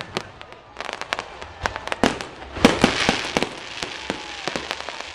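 Fireworks at Busch Gardens go off outdoors, a rapid run of sharp crackling pops and bangs at mid distance, some louder bursts in the middle, with faint crowd voices under them.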